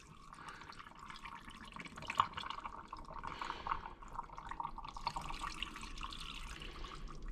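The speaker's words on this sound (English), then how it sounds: "then we're going to pour the brine over" Brine is poured over pickled herring layered with onions and lemon, a soft close trickle and splash of liquid filling the container, steady and quiet, with no talk.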